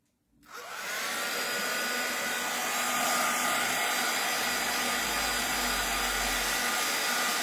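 A handheld hair dryer drying a wet crafting background, switching on after a moment of quiet and then blowing in a loud, steady, continuous roar to the end.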